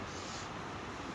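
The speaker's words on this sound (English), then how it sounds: "Same bubbling river, it's a raging river today." A swollen, raging river runs fast after winter rain at a wild camp in Scotland, heard as a brief, faint, steady broadband rush with no other sounds.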